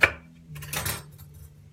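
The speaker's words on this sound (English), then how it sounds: "So we're chopping the carrots." A knife chops through carrots on a board for taco prep, a few quick close cuts with a brief burst of strokes, loud at the start and then fading over a low background hum.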